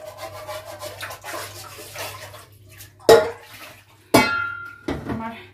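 Dishes are washed by hand at a sink, with rubbing and scrubbing followed by two loud splashing bursts of running water and a final rinse.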